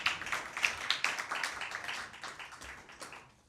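Scattered clapping from an audience at a Christmas Bible quiz prize-giving, distinct claps that gradually thin out and fade toward the end.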